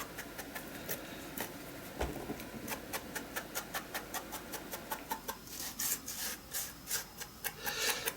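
Paper edges being sanded with distress foam while decorating a journal cover, a close, quiet run of rhythmic rasping strokes that speeds up toward the end.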